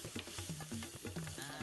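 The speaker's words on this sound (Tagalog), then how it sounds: "Unang igigisa ang bawang at sibuyas." Garlic and onion sautéing in a clay pot for Kapampangan corn soup, a soft sizzle with stirring scrapes and faint tonal sounds in the background, quiet and close.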